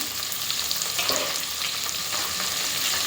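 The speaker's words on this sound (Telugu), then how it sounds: "బాగా నూనెలో ఫ్రై కావాలా చాలా బాగుంటుంది" Oil sizzles steadily in a pan while sambar is cooked, a continuous close frying hiss with faint stirring touches throughout and no talk.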